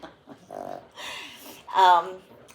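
Excited dogs greet their owners just back home with close, high whines, whimpers and yips that rise in bursts. Faint breathy sounds mix in with the whining.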